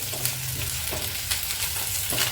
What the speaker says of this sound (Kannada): ಸಣ್ಣ ಉರಿ ಮಾಡಿಕೊಂಡು ಫ್ರೈ ಮಾಡ್ಕೊಳ್ಳಿ ನಾನು ಸ್ವಲ್ಪ ಚೆನ್ನಾಗಿ ಫ್ರೈ ಮಾಡ್ಕೊಳ್ತೀನಿ